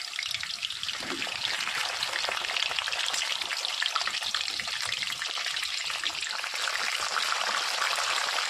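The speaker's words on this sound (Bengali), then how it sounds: "এবারে চিকেনটাকে প্রথমে ফ্রাই করে নেবো।" Chicken pieces fry in hot oil in a wok with a steady, dense crackling sizzle that holds evenly from start to finish, moderately loud and close, with no talk.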